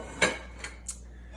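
Hot metal cake pans holding rum cakes clank once sharply, followed by two lighter taps and scrapes, close up with no voices.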